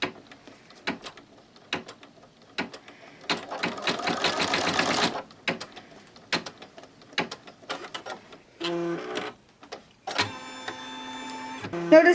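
An in-the-hoop embroidery machine stitches placement lines for pockets on an RFID-blocking credit card wallet, with rapid mechanical needle bursts, stops and restarts, and a brief whirring hoop movement, heard up close in a quiet room.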